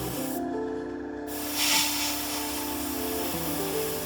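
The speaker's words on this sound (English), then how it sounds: "Very gentle with the airbrush." An airbrush sprays paint onto a 3D print, a soft steady hiss with a brief louder puff partway through, heard over a constant background hum and tonal drone.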